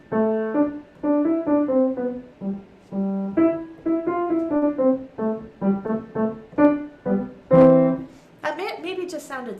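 Piano played with a shallow touch, producing a gentle, fairly even melodic passage of separate notes, some sounding weak or barely present, with a fuller chord and a brighter flourish at the end.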